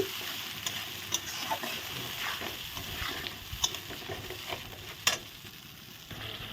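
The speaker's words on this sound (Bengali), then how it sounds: "এখানে আছে জিরে আদা কাঁচা লঙ্কা বাটা দিয়ে এখন ভালো করে নেড়ে চেড়ে নেব" Cumin, ginger and green chili paste is stirred in a pan for a spicy eggplant dish, giving a steady soft sizzle broken by scattered scraping clicks from the spoon. The sound is close and runs throughout with no voice.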